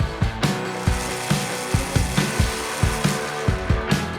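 Electric drill pressed against the screen of an OPPO A5 Pro mobile phone, a loud mechanical whir broken by repeated rattling, ratchet-like bursts about every half second throughout, up close with no talk.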